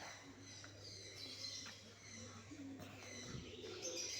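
Faint bird sounds in a quiet space at Kathgola Palace, Murshidabad: soft low cooing mixed with a few thin chirps from a bird house, with a steady low hum underneath.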